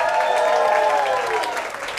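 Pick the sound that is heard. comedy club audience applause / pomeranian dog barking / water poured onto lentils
comedy club audience applause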